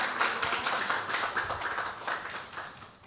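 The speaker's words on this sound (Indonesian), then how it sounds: "Tepuk tangan untuk SMA 7." A modest audience at a school Maulid Nabi commemoration claps for a high school group, with distinct, somewhat sparse handclaps pulsing in an uneven rhythm that thins out toward the end.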